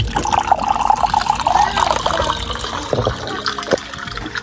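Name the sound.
water pouring into a drinking glass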